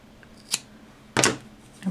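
Scissors cut through crochet yarn while finishing off a Christmas stocking: three short, crisp snips spaced across a quiet moment, the middle one loudest.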